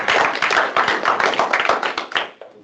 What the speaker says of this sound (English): If we can welcome a round of applause for that.